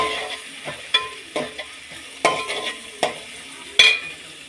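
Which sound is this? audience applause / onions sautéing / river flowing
onions sautéing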